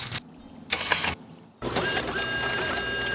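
Printer running in a Nancy Drew point-and-click mystery game, a steady whirring, clattering mechanical drone with a brief burst of activity before settling into continuous close operation.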